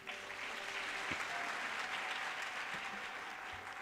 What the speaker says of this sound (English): Can we also clap hands for him?